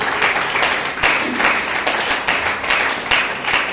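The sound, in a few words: congregation applauding in church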